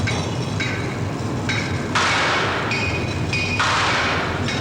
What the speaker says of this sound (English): the steam hammer. It started on the keel.